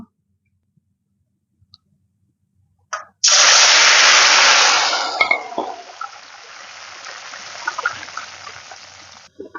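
Spiced mango oil with whole spices poured into hot mustard oil in a pan, a sudden loud sizzling hiss that bursts in, holds strong, then eases into a steady crackling fry with scattered pops.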